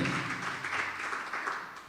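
A church congregation claps in a short, dense burst of applause that fades slightly toward the end.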